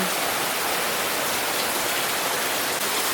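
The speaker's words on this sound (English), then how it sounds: "It's raining really, really, really bad." Heavy rain pours down hard and sideways in a dense, unbroken hiss, loud and close, with no voices heard.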